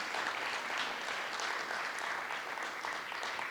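Audience applause at a school arts awards ceremony for visual arts winners, a continuous, fairly soft rush of many people clapping at a steady level from start to finish, with no talk over it.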